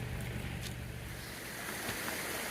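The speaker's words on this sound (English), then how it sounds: "River crossing." Steady rushing water of a river on the Appalachian Trail flows continuously, a broad watery roar filling the background with no speech.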